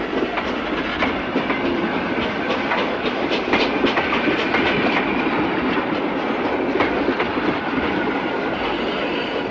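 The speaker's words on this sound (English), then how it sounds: "7005 departs for London." Great Western locomotive 7005 Sir Edward Elgar pulls away from Worcester with a London-bound train in the 1960s, a steady rumble of rolling wheels and clickety-clack over rail joints with occasional clanks, loud and continuous.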